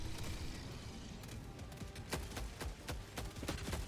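Autocannon fire from Helldivers 2 pounding automaton bots and tanks: a string of heavy, evenly spaced shots, louder and sharper toward the end, over a dense roar of battle noise.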